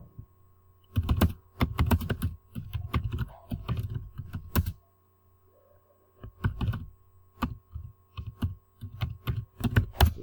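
Computer keyboard typing in quick bursts of close keystrokes, separated by a short pause, over a faint steady electrical hum.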